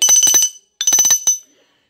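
Two short bright bell-like chimes of a notification sound effect ring out close and loud in quick succession, each shimmering briefly before cutting to silence.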